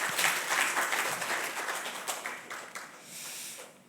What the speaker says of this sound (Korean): 주님께 영광의 박수를 다시 돌려주면 좋겠습니다